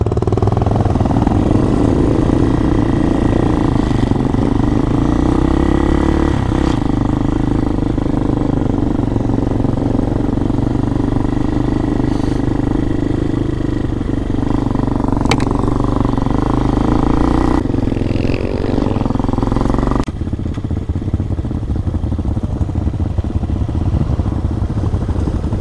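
Several dirt bikes ride through Richloam State Forest, among them Hawk 250 and DLX 250 two-strokes, a Vitacci Raven 250 and a Honda CRF250. The engines drone steadily and loudly up close, with engine notes that shift and clatter throughout.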